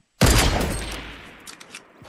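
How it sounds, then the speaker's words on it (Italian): A sniper rifle headshot in the video game Fortnite rings out as one loud, sharp gunshot that decays over about a second, followed by a few faint clicks. "262 di headshot col cecchino."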